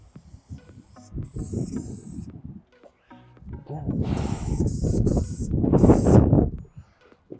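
Short bursts from a spray paint can hiss outdoors in gusty wind, several separate sprays of about a second each, while a person talks over the low rumble of the wind.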